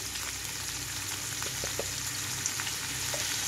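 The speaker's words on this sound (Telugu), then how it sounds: "లో ఫ్లేమ్లోకి టర్న్ చేసి వేయించుకోవాలి." Cabbage and prawns fry in a pan over a low flame, giving a steady, close sizzle with faint crackles and a few soft stirring clicks, with no talk.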